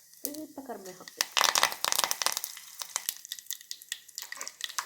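Mustard and cumin seeds crackle and splutter in hot oil for a gravy sambar, a dense burst of sharp pops and sizzling up close, following a brief voice at the start.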